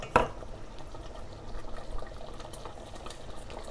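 Raw mango guramba simmering in a pot, a soft, faint bubbling hiss that runs steadily with a light clink near the start and no voices.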